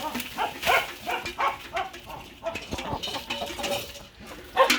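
Chickens in a farmyard coming to eat freshly thrown grass, with scattered clucks and short squawks nearby, irregular and bursty, amid light rustling.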